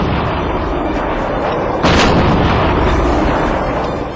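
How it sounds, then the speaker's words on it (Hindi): Heavy gunfire and a rolling artillery explosion echo through a valley, a dense, loud roar with a sharper burst of blast about two seconds in, sustained until near the end. "इस वादी में अकेले गोलियों की आवाज ही नहीं गूंजती, बल्कि बीच बीच में बड़े धमाके भी सुनाई देते हैं।"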